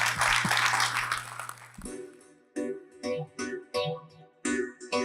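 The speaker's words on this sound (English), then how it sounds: "Please give a round of applause to the panel." Audience applause for a panel at an India investment discussion in Silicon Valley, a dense burst of clapping for under two seconds, then broken off into a few separate loud bursts.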